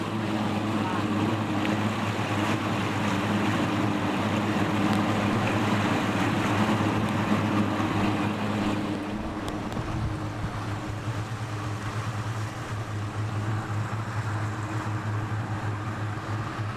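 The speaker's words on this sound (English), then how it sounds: "It's a yacht." Boat engine droning on open water near Pensacola as a yacht goes by, a steady low hum with wash and wind noise around it, moderately distant and even in level.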